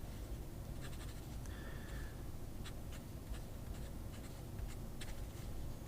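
A TWSBI fountain pen with a broad nib writing on paper: faint, close scratchy strokes come in short bursts over a quiet background hiss.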